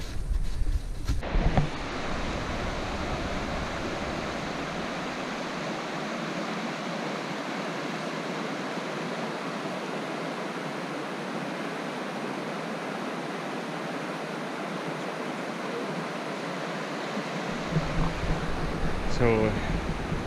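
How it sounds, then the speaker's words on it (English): Water of the Tim River in Algonquin Park rushing over rocks in May: a steady, dense, close roar of flowing water that stays even throughout, with faint rustling near the end. "I love the sound of just water rushing over the top of rocks."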